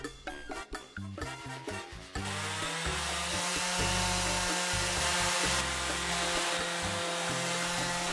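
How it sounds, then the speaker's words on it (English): A handsaw cuts through wood for a workbench built from an old changing table, first in a few short, separate strokes, then in a long, loud, continuous rasp that runs to the end. "My saw makes rough cuts"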